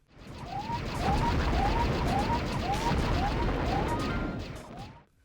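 Rapid, sustained gunfire in the Dreamcast video game Incoming crackles steadily for several seconds, with a repeating short whistling chirp layered over the shots, then cuts off.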